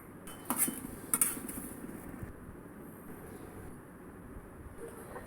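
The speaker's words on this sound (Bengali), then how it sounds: "এখন এখানে রসুন কয়েকটা আর শুকনো মরিচ কয়েকটা ভালো করে টেলে নিচ্ছি" Garlic and dried chillies dry-roast in a wok, and a utensil scrapes and clinks against the metal in a few sharp bursts near the start. Quieter stirring rustles follow.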